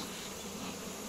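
Honey bees buzz in a dense, continuous swarm hum as they are shaken off a hive frame, close and steady throughout.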